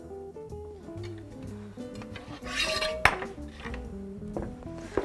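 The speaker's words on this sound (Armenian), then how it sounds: "ես հենց հիմա թավան կբերեմ" A Tramontina frying pan is brought out and handled in a kitchen, with close clattering of pots and pans, metallic clinks and ringing tones, and one sharp bang near the middle.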